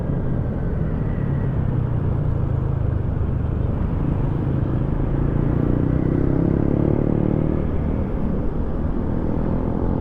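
Motorcycles and cars in road traffic make a steady, loud, dense engine rumble that continues without a break, with no clear voices over it.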